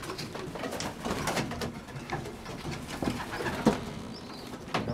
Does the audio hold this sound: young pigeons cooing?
yes